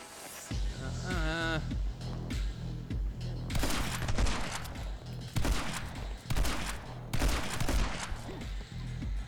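Shotgun blasts in My Friend Pedro fire in a string of loud, sharp booms spaced a second or so apart, mixed with game music and a voice talking in between.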